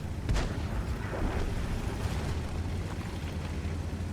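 Artillery fire in World of Tanks, with one deep boom near the start settling into a low, rumbling battle background, fairly quiet and without speech.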